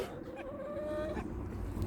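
Chickens cluck briefly nearby in a village coop, a short burst of soft, throaty bird calls over faint background noise.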